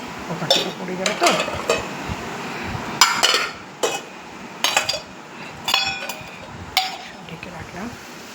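Lids and plates clinking down over cooked home dishes of dal, ghugni, potato and fried fish, several sharp metallic clatters spaced across the stretch at close range, with faint background sound between.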